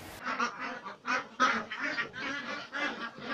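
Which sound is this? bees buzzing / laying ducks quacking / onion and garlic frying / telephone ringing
laying ducks quacking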